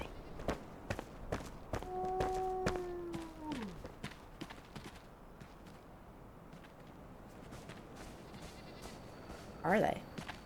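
A goat in the video game Enshrouded lets out a clear, drawn-out bleat amid frequent footsteps and clicks, with a second brief cry near the end.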